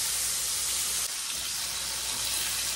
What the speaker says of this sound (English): You just frying them in really hot grease.